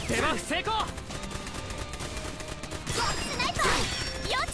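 Sniper gunfire in the video game Sword Art Online Fatal Bullet: a run of sharp, rapid shots in the middle, with a voice talking just before and after.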